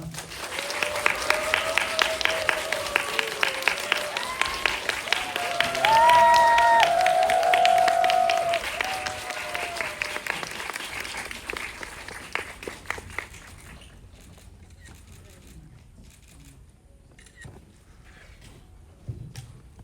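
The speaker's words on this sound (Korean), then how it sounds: "앞으로 나와주시면 큰 박수 부탁드리겠습니다." A cinema audience at a Korean film screening and Q&A applauds as the director, author and singer come up on stage. Loud, dense clapping with rhythmic beats builds, then fades to scattered claps and footsteps.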